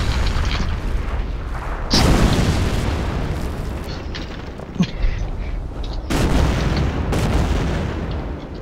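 Artillery explosions in Company of Heroes, heavy booming blasts with a few sharp, loud impacts over a continuous rumbling battlefield din, some strikes close and others fading into the background.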